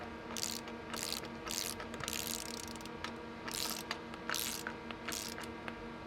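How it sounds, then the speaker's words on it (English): A torque wrench set to 40 foot-pounds tightens the oil sump pan bolts on a 2005 Subaru WRX blobeye, giving bursts of close, rapid ratcheting clicks over a steady background hum, repeated several times. "Now I've already got the torque wrench set to 40 foot-pounds."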